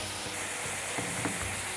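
Tempering spices sizzling in a little hot oil for an Indian Telugu home-cooking dish, a continuous close crackling fry with a few sharper pops, no talk over it.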